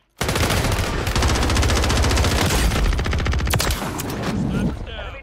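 Sustained automatic gunfire from a Warzone match on Rebirth Island, loud rapid bursts rattling almost without pause for several seconds and easing slightly near the end, with brief voice chatter mixed in.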